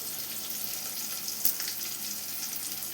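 Garlic cloves sizzle in a pan while being stirred for a tamarind-style rasam, a steady bright crackle with one sharper spatter near the middle, close and alone.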